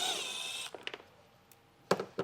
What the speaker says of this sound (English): I will take a 7mm socket and get these 2 screws removed.